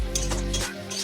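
Short burst of stirring in a pan of cauliflower and spices for a fish and potato curry, a spoon scraping and clinking close up over a faint sizzle.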